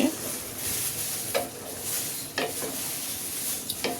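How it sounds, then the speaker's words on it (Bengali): Water splashes into a pan of sizzling fried curry with pumpkin lentil dumplings and drumstick stems, giving a loud continuous hiss punctuated by a few sharp clinks of stirring. "এখন আমি একটু পানি দিয়ে দিচ্ছি।"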